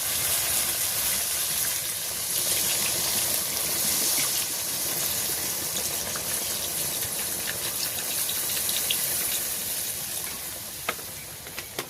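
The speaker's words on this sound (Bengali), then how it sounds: "এখন আমি জল দিয়ে দেবো।" Water pours into a cooking pot of spiced frying oil, a broad, steady rushing hiss that gradually eases toward the end, capped by a few light clicks.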